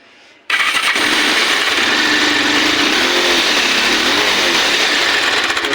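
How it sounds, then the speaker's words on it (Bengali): A Bajaj Pulsar 180 motorcycle engine cranks and catches after its self-starter carbon brushes were replaced, then runs loud and steady at close range with a rough, continuous mechanical roar. "কিন্তু গাড়ির ইঞ্জিনের আওয়াজ শুনে"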